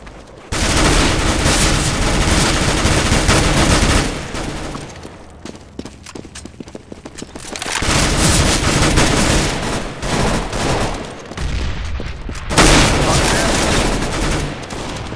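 Rapid bursts of automatic gunfire from a CS:GO match fill the scene, loud and close, with dense volleys that pause briefly around the middle before resuming in heavy, sustained fire.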